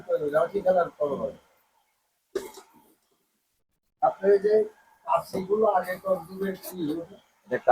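A single short cough bursts out once between stretches of conversation indoors, while someone shows off old collectible keepsakes.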